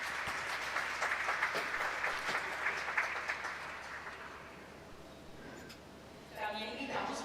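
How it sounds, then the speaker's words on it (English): Audience applause fills a conference plenary session, a steady, dense wash of clapping for about five seconds before it thins out, with a brief swell near the end. "Big round of applause for him, please."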